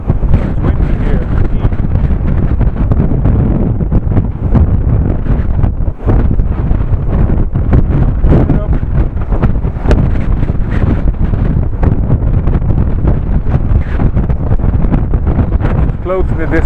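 Very heavy wind roars and buffets across the microphone continuously while riding a bike outdoors, loud and unbroken, with occasional speech faintly under it.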